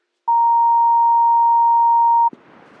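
A single steady voicemail beep tone sounds clearly for about two seconds, loud and pure, then cuts off into faint line hiss.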